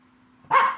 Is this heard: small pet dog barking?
yes